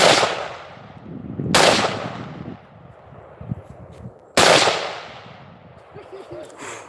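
AR-15 rifle fired outdoors on rural land: two loud, sharp cracks a few seconds apart, each trailing into a long echoing decay, with quiet murmurs and movement between shots.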